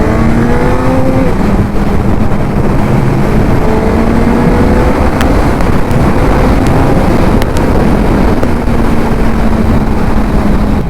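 A Suzuki Hayabusa motorcycle pulls hard in second gear on its medium-power B mode, the engine tone climbing steadily under loud, constant wind rush for about eleven seconds, with no talking.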